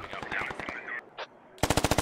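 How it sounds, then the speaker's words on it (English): Automatic gunfire in the military shooter game Squad: a rapid burst of shots, a short pause, then a louder, closer burst of evenly spaced rounds. "he forgot to check where the gunshots came from"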